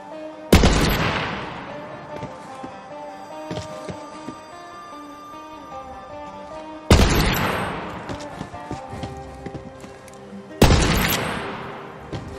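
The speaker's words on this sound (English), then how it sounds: "Sounds like he was shot in the back" Three loud gunshots from Borderlands 3 crack out several seconds apart, each a sharp blast with a long ringing decay, while quieter game ambience and faint tonal music hum in the gaps.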